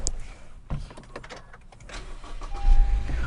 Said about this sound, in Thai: เดี๋ยวผมติดเครื่อง